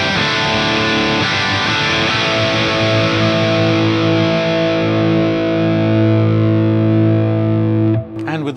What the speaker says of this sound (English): this is the sound of the Ampero II Stage just by itself again